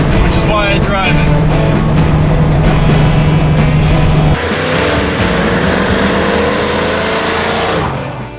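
A 1971 Ford Mustang coupe accelerating hard, a loud continuous engine roar with a steady droning tone that shifts pitch partway through, then eases off at the end.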